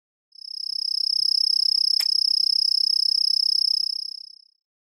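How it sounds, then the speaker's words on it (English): A cricket chirps in a steady, rapid high-pitched trill that runs continuously for about four seconds, clear and alone against a quiet background. "Cricket."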